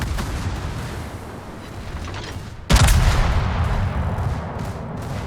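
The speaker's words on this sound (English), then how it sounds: "Here comes the salvo" A naval gun salvo in the World of Warships game, one sudden loud boom about halfway through, followed by a sustained rumbling roar that lingers to the end, with no talk.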